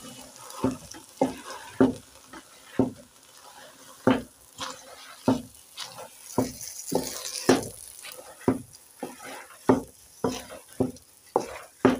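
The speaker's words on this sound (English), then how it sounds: "Now we have to mix." Mukimo ingredients with spring onions being mixed in a pot, a regular series of soft thuds and scrapes repeating about once per second, close and unaccompanied by talk.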